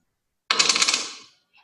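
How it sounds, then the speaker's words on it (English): A coin drops and rattles to rest on a hard surface, a bright jingling burst that quickly fades, with a faint clink at the end. It is played as a listening exercise in a science class. "They listen to the sound of coins."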